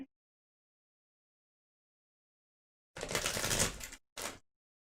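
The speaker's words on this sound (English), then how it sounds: "His Insight deck getting shuffled." A deck of Arkham Horror card game cards being shuffled, a dense riffling burst of about a second followed by a short second riffle, close and alone after silence.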